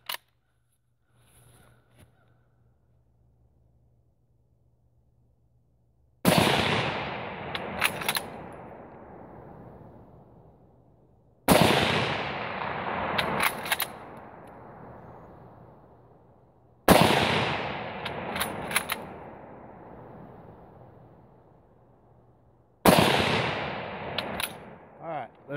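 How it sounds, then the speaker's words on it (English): Four sharp rifle shots from a Finnish M39 bolt-action rifle fired standing on an outdoor range in East Texas, each a loud crack with a long decaying echo, spaced several seconds apart after a near-silent start. "That was four shots, fairly rapid succession."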